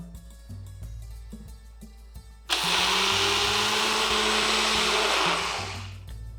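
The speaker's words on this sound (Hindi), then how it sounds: "चावल को करीबन आधा घंटा भिगा लिया है मैंने। उसे अब हम दरदरा पीस लेंगे" A blender roars to life after a few seconds of quieter kitchen background, coarsely grinding soaked rice with a little water, steadily and loudly before winding down near the end.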